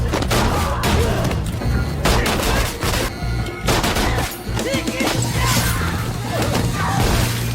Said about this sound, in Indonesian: Aksi baku tembak serta pembantaian pun tak bisa terelakkan lagi.